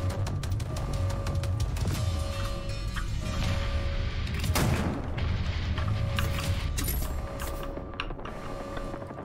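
Gunfire in the video game Wolfenstein: The New Order rattles in rapid bursts, with one heavy boom standing out amid a steady background of in-game noise.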